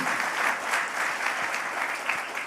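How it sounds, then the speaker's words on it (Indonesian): A church congregation claps during a sermon in a dense, even burst of applause that holds steady throughout, fairly loud and close. "tepuk tangannya lebih dahsyat lagi"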